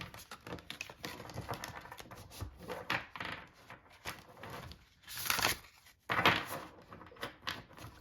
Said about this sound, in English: They shuffle nicely.